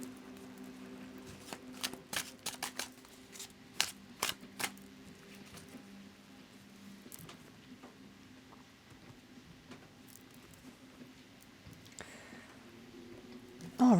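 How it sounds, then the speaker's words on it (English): A tarot deck being shuffled by hand: quiet, scattered card clicks and soft riffling patter over a low steady background hum, with a few sharper snaps early on. "I'm going to go ahead and give the deck a good shuffle for y'all"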